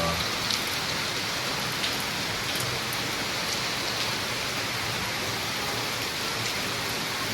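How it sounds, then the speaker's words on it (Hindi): Steady rain pours down in Udaipur, a dense even hiss of drops hitting surfaces, with occasional faint drips standing out and no one speaking. "ये देखो बारिश,"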